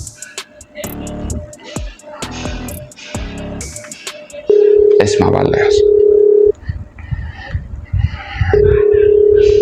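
A phone call to a customer service line: a steady ringback tone sounds loudly in two long stretches, broken by someone speaking and some clatter between them.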